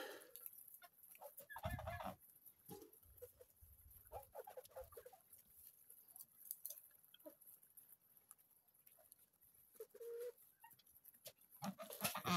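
Fluffy-feathered backyard chickens cluck in short scattered bursts, faint and somewhat distant, with quiet gaps between calls.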